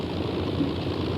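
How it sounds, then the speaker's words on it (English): The cold piston engines of an Avro Lancaster bomber run with a rough, low, continuous rumble and slight knocking at moderate distance, with no voices. "One by one, the cold engines cough into life."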